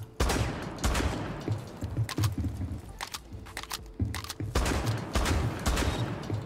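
Rapid bursts of shotgun hipfire in Rainbow Six Siege, loud close blasts in clusters with short pauses between volleys, mixed with game ambience.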